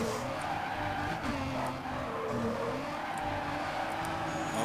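Car drifting in Need For Speed Carbon, a Nissan Silvia mod, with tires skidding and squealing over a revving engine, continuous and loud, close up, no voices.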